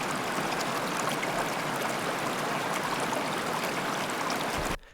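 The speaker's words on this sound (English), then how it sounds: "Here's another example of a river recording I did." A river flows steadily in an outdoor field recording, a dense, even rush and babble of water heard up close and continuous, without voices, cutting off abruptly at the end.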